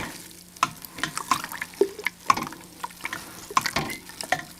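Stirring a loose one-gallon all-grain mash for a sour beer, with close, wet sloshing and scraping in irregular repeated strokes and small splashes throughout.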